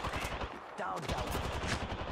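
Rapid automatic gunfire from Apex Legends weapons rattles in continuous bursts at close range, with a brief pause in the middle before resuming.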